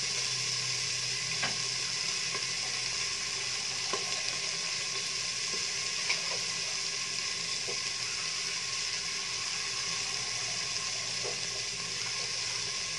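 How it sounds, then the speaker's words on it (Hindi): Green peas roasting in a pan for khichdi make a steady, even sizzle, with occasional soft clicks and scrapes as they are stirred, and no one talking. "मटर वैसे तो इसमें गल जाती है अच्छी तरह से, लेकिन थोड़ा सा हम इसको स्टार्टिंग में फिर भी भून लेते हैं"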